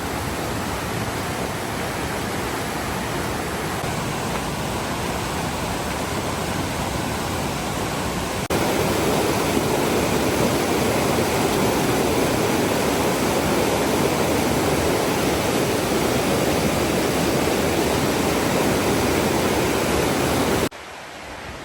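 River water rushes past the old Elkmont community swimming hole in the Great Smoky Mountains. It is a steady, dense roar that grows a little louder partway through and then cuts off abruptly near the end, with no voices.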